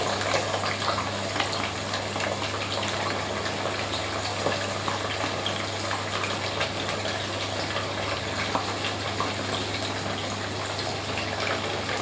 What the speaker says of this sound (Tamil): போட்டதுமே நல்லா பொரிக்கிது பாருங்கள்